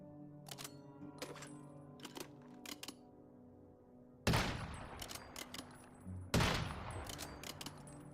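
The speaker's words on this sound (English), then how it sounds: "there's somebody else shooting him with unstable bomber now" Unstable Bomber gunfire in the Once Human survival shooter, two sharp, loud blasts with crackling tails over a field of faint clicking game sounds.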